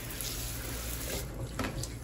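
Water runs steadily from a BARROCK waterfall bathroom faucet, a constant close rushing splash with no talk over it.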